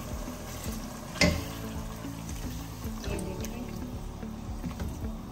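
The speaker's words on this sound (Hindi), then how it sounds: "और अब मैं इसमें हाफ ग्लास पानी डालूंगी" Water from a half glass is poured into a cooking pan holding a little gravy while making Singapore noodles rice, a steady liquid trickle and sizzle with a sharp splash near the start, close and moderately loud.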